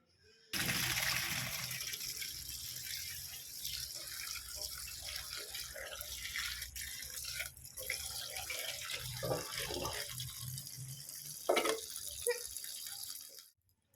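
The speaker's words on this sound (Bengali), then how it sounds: "ঠান্ডা জল দিয়ে এবার একটু ধুয়ে নেবো" Cold tap water runs steadily into a kitchen sink as food is rinsed, a continuous splashing rush lasting most of the stretch with a few brief clatters and no speech.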